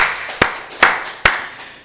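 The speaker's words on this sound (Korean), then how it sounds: "우리 박수를 하나님께 드리겠습니다" A church congregation claps together at a Korean Full Gospel Wednesday worship service, three sharp, evenly spaced claps ringing out in a reverberant hall with no talking.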